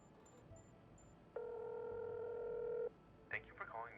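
Telephone dial tone in the video game Technobabylon, a steady electronic tone that sounds alone for about a second and a half over a quiet background, with brief chirpy tones before it and a short voice after it.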